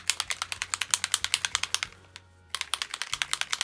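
Spray bottle of pigment ink being shaken hard, a fast steady train of sharp rattling clicks from the mixing ball, pausing briefly before resuming at close range.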